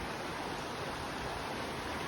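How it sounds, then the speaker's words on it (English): Rattling Creek runs as a steady, faint broadband rush of flowing water heard from a trail, continuous and even without voices. "It's a beautiful, beautiful creek."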